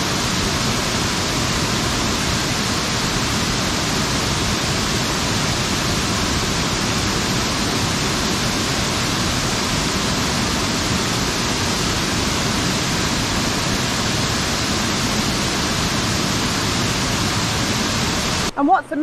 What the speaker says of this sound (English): A cascading water of Sgwd-yr-Eira.